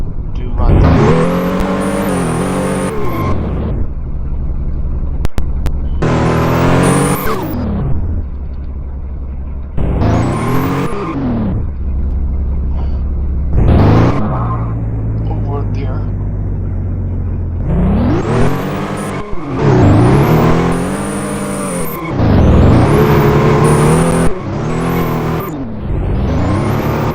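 Porsche Panamera in the Roblox game, set in Uxbridge county, London, revs and drifts in repeated loud bursts, engine pitch sweeping up and dropping again several times, with quieter idle stretches between and a voice talking over parts.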